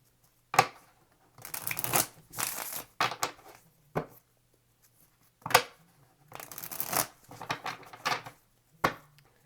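Tarot cards shuffled by hand in short, close riffling bursts, several quick crisp flurries separated by brief pauses and sharp taps as the deck is squared.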